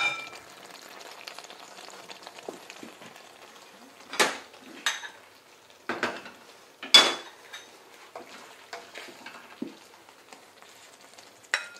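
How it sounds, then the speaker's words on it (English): Chickpea curry being served up from the pot: several distinct clinks and scrapes of spoon against pot and plate over a faint background sizzle, spaced irregularly, with no talking. "So I will dish that up now."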